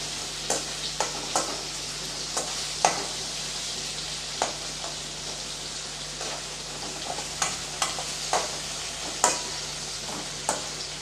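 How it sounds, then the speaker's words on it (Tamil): Potatoes frying in oil for a side dish: a constant low sizzle broken by a dozen sharp scraping stirs at irregular intervals, close and clear, without speech. "இப்போ எண்ணெயிலே நல்லா இது வறுபடட்டும் பாருங்கள் உருளைக்கிழங்கு வந்து நல்லா வறுபட்டுடுச்சு"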